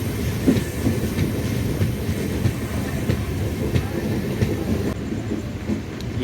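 Trains on a busy line just past Challapalli, heading toward Secunderabad and Kacheguda, rumble with steady rhythmic clickety-clack of wheels over rail joints, loud and continuous throughout with no talk.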